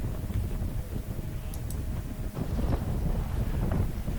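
Steady wind roars across a sailboat's microphone in Juan de Fuca Strait in December, around Force 5 with building chop, a continuous broadband rush with gusty swells and faint creaks, no talking.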